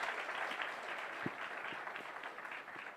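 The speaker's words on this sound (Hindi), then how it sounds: "एक बार जोरदार तालियां।" Audience applause for a Deputy Chief Minister at an interview event, a steady but fairly faint wash of clapping with a few sharper claps standing out.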